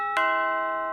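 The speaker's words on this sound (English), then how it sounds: "Oh, doorbell." A doorbell chimes once indoors, a single bright ringing tone that sustains and slowly fades, heard alone without talk.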